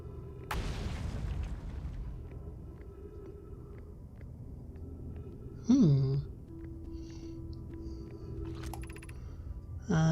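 The gravity cannon in the space-exploration video game Outer Wilds launches a shuttle: a deep booming blast and rumble at the start, fading into a low hum, with tonal chirps and whooshing electronic swells following.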